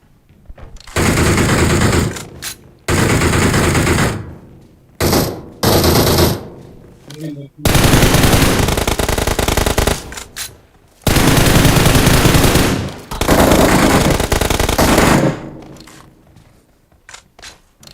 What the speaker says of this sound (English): Somebody is shooting from where?